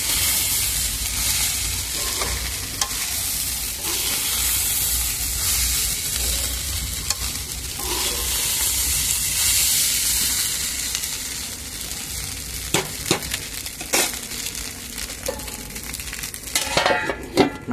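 Fried rice sizzles steadily in a hot pan while being stirred, with a continuous frying hiss and scattered clinks of a utensil against the pan growing sharper near the end.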